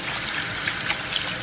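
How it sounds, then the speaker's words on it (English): Cold water pouring steadily into a cooking pot for a seafood boil, a continuous close splashing rush that fills the whole brief moment. "Put it in some cold water."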